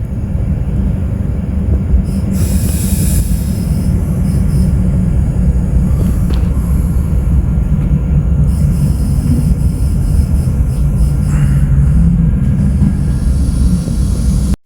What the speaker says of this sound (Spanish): es ya de los pocos trenes de diésel que quedan